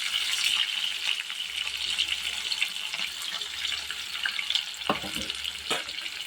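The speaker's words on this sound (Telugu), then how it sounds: "ఆయిల్ హీట్ అయిన తర్వాత ఉల్లిపాయలు, పచ్చిమిరపకాయలు వేసుకోవాలి." Chopped onions and green chillies fry in a pan of hot oil with a steady close-up hiss, and a few sharp clinks and scrapes break through near the end.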